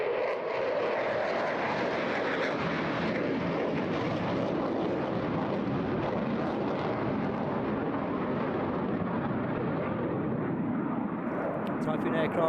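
A Eurofighter Typhoon jet, with two powerful 20,000-pound engines, roars continuously at the 2023 Eastbourne International Airshow, a loud, steady engine rush under a commentator's talk.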